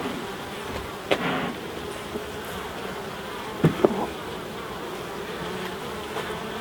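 Honeybees drone in a steady, dense hum at an open beehive smoked off a queen excluder, with a few sharp knocks and clicks of the hive being worked cutting through.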